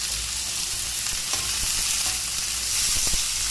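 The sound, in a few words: shrimp frying in a pan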